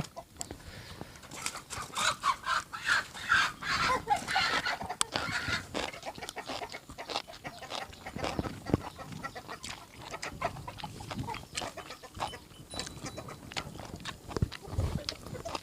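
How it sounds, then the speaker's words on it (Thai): Chickens settle to roost at dusk in rural farmland after the rice harvest on a cold, windy evening, giving scattered soft clucks and squawks at fairly low volume among rustling background noise. "ไก่กำลังถึงนอนพี่น้อง"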